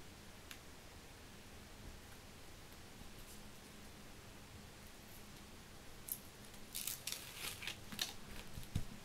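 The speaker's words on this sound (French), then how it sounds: "Alors je découpe avec le cutter" Faint, quiet scratching as a blade cuts through paper, the strokes growing busier and louder near the end against a soft hiss.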